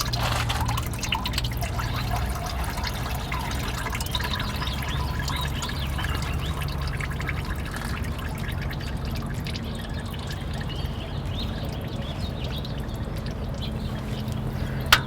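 Motor oil drains from a car's oil pan in a continuous trickling, dripping stream, steady and close, with no talking.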